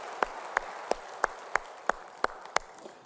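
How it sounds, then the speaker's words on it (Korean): A church congregation at a Sunday worship service claps in honour of the choir. Eight crisp, evenly spaced claps land about three per second over a quiet room. "영광의 박수 올리겠습니다."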